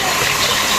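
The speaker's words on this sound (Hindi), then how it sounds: "This is a waterfall here." Indoor waterfall in a rainforest exhibit in Oman, a continuous close rush of falling water, steady and fairly loud, heard alone for under a second.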